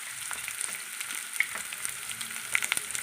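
Onions frying in a pan for a Kannada moringa-leaf stir-fry, a steady soft sizzle with small crackles and occasional light pops, close and moderately quiet, with no talking.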